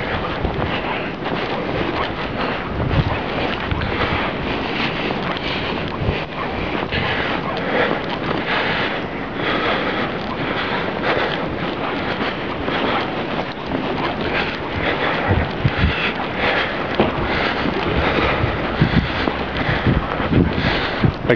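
Snowstorm wind in Montreal in December blows hard and steadily against the microphone, a loud, unbroken rush of buffeting roar with no break and no voices.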